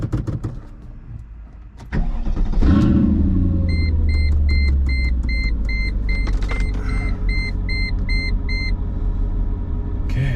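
A Mercedes C55 with an M113 engine cranks and fires, then settles into a loud, steady idle rumble close by, with a repeating electronic chime pulsing over it.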